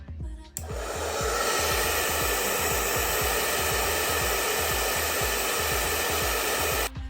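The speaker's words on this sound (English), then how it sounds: "I'm going to blow dry it again" A hair dryer blows steadily and loudly on a wig pressed down during a lace wig install, switching on just after the start and cutting off near the end, alone with no talk.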